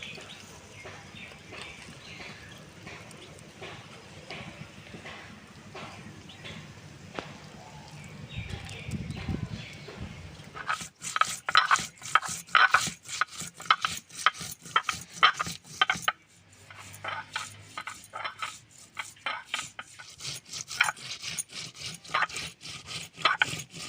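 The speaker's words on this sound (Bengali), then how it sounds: "আমি এদিকে গোটা মশলাটা বেটে নেব।" Roasted whole cumin, coriander and dried chillies are ground on a grinding stone, a repeated rhythmic rubbing and scraping that grows louder and more regular in the second half, close and mostly alone.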